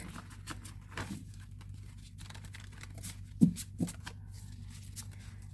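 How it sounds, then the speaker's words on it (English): Soft, close shuffling of tarot cards with light papery slides and taps over a low steady hum, fairly quiet. "One more shuffle and then we can get going."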